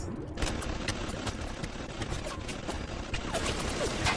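Sustained turret gunfire in the video game BioShock Remastered, a dense, loud, continuous rattle of rapid shots that fills the whole stretch without pause.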